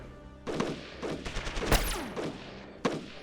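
A volley of gunfire from the Shadow Empire war strategy game: several overlapping crackling bursts of massed shots and explosions, fairly loud and continuous, with a sharp final burst near the end.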